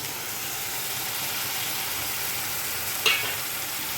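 Ground spices (turmeric, salt, garam masala, cumin, chilli powder, sugar) fry in hot oil in a pan for a shankar fish curry, giving a steady sizzle with a brief stirring scrape near the end.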